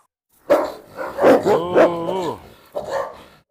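A Rottweiler growls and barks at another dog, a Cane Corso, close and loud: sharp barks opening into a drawn-out, wavering growl-whine, then a final short bark, with no talk.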